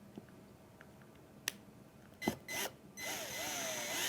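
A drill driving a screw, heard after a few sharp clicks as a short burst of whirring motor noise with a bending pitch, close and fairly quiet in a still room.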